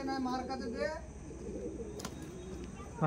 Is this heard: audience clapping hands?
no